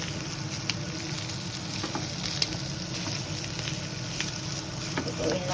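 Chorizo and meatballs fry in a pan with a steady, dense sizzle and crackle, scattered pops and stirring scrapes over a constant hiss, while a voice speaks faintly in the background.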